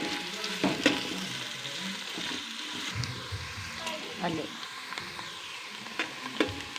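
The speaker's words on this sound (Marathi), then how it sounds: "कांद्याला ब्राऊन येईपर्यंत भाजायचं आहे" Chopped onions fry in a pan until brown, a steady sizzle broken by scrapes and clinks of stirring, close and moderately loud.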